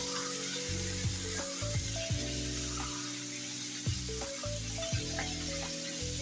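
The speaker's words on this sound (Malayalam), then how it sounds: "ചിക്കൻ തേക്കുന്ന കളറ് നന്നായിട്ടൊന്ന് മാറി വരുന്നത് വരെ നമുക്കൊന്ന് വറുത്തെടുക്കാം" Chicken pieces sizzling in mustard oil in a pan for a Bihar-style chicken curry, with steady crackling hiss and a few scraping stirs of a spoon, moderately quiet and without talking.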